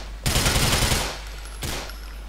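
Rapid automatic gunfire from Grand Theft Auto IV rattles in a loud burst lasting about a second, followed by a quieter trailing shot and game ambience.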